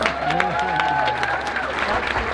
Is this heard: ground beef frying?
no